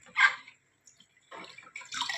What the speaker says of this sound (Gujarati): આ રીતે એને સરસ મજાની ધોઈ નાખીશું,